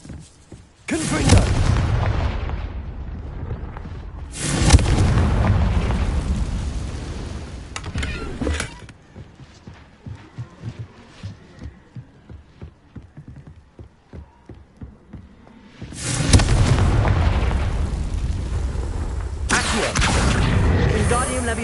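The Confringo explosion spell in the video game Hogwarts Legacy blasts off in heavy, booming bursts, with several loud detonations in two clusters. A quieter stretch of footsteps and combat noise lies between the clusters.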